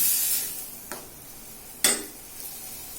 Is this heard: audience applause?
no